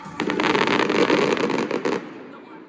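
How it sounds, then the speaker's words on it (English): Rapid crackling fireworks bursts at Six Flags Great Adventure amusement park, dense and loud for about two seconds, then fading into quieter ambient noise. "I love these fireworks."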